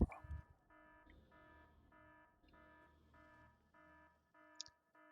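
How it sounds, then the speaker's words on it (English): An electronic alarm in the video game Factorio beeps in a steady repeating pattern of evenly spaced tones, moderately loud, with a few clicks at the start and a short blip near the end. "the alarm was beeping because we don't have any lamps here"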